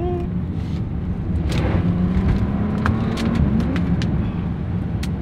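A Bentley Continental GT W12 pulls hard under acceleration, its engine a steady low drone with rising tone heard from inside the cabin, plus wind and road roar and a few faint clicks.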